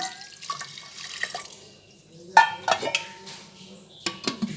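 Water poured into a pressure cooker holding washed masoor lentils, a soft splashing and trickling with a few brief clinks of the vessel, fairly close.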